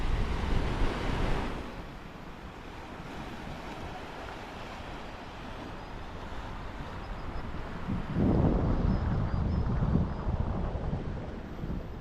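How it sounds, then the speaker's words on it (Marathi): Foaming sea waves surge against the weathered stone walls of Padmadurg sea fort, a steady roar of surf with wind buffeting, swelling louder in a heavy wash near the end. "आपल्याला दिसतात समोर येणाऱ्या फेसाळणाऱ्या लाटा"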